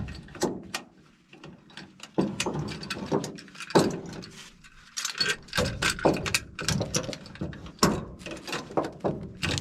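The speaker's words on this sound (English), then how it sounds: "I'm gonna put a come along on the back and then winch this tight, and then I'll throw a ratchet strap around the axle" Come-along and ratchet strap cranked tight on the axle of an abandoned 54-year-old Jeep Gladiator J2000, giving a busy run of sharp ratcheting clicks and metallic clanks in irregular bursts, fairly close and steady throughout.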